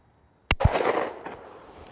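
A shotgun fires once at a dropping sporting clay target, a sharp loud blast followed by a rolling outdoor echo that fades over about a second.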